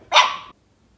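A single sharp dog bark indoors at a house, loud and close, lasting about half a second and then followed by silence.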